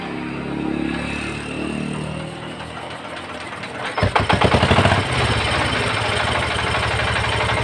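A repaired engine with an extra noise cranks, catches and settles into a loud, close idle with a fast steady knocking rhythm.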